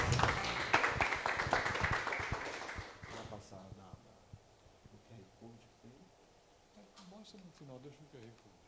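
A burst of audience applause at the end of a public lecture fills the opening seconds, then fades as a person begins talking quietly over the room.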